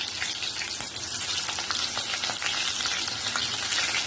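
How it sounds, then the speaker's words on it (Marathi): Mustard seeds and sliced onion frying in hot oil, a dense, steady, close sizzle with scattered small crackles and pops throughout, and no talk. "त्याच्या मस्त सटसट आवाज आले हा मोहरी चांगली भाजून घ्यायचं असतात"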